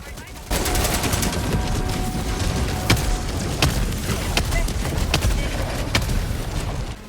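Machine gun and shotgun fire in the video game Helldivers 2, with sustained rattling bursts and several sharp, louder single blasts over a dense battle rumble.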